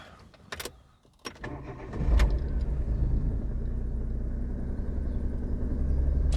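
A Daewoo Matiz with 90,821 miles and a history of idle trouble starts up, cranking briefly before catching, then settles into a steady, low, close engine idle with no talk over it.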